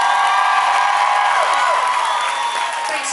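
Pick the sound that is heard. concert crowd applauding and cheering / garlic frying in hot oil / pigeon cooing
concert crowd applauding and cheering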